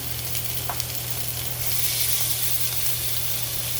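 Steady sizzling hiss of lamb chops frying in a hot pan, continuous and fairly loud, swelling slightly partway through, with a low hum underneath.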